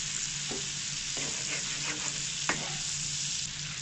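Cinnamon, cloves, curry leaves and crushed ginger-garlic sauté in hot oil for a mutton curry, giving a steady close sizzle broken by a few sharp scraping stirs of the spoon against the pan.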